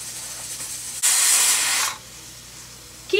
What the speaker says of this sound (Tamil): சாப்பாடு விசில் வர ஆரம்பிச்சிருச்சுங்க